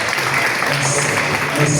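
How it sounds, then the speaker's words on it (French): Applause at a hotel book launch event in Parakou, a continuous mid-loud clatter of hands with a voice speaking briefly over it. "S'il vous plaît, on peut applaudir, s'il vous plaît."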